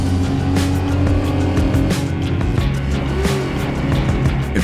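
A 2011 Dodge Charger driving hard, its engine roaring loud and close with rising revs and a brief tire squeal, all dense and continuous throughout.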